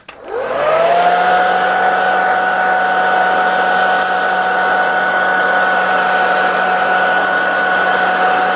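A hair dryer blasts heat onto freshly airbrushed acrylic ink paint, switching on with a rising whine and then holding a loud, steady close-up roar with a constant tonal hum.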